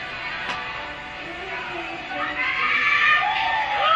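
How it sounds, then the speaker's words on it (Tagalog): A crowd cheers and shouts at a singing performance by a Filipino singer, a continuous roar of voices that grows louder and brighter toward the end, with higher shrieks rising over the din. "Grabe yung crowd."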